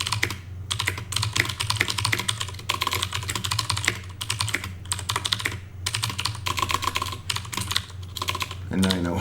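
Rapid, continuous typing on a computer keyboard while coding, with dense clicking keystrokes throughout at close range and no talk.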